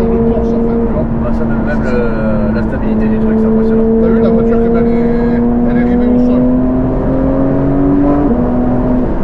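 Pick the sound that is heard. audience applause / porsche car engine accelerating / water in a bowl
porsche car engine accelerating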